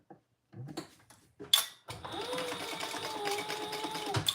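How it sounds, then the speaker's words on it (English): A sewing machine stitching a pocket closed on a travel pouch: a few soft handling bumps and clicks, then a close, steady whirring run of stitching lasting a couple of seconds before stopping. "we're gonna sew our pockets"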